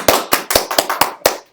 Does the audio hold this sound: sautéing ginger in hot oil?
no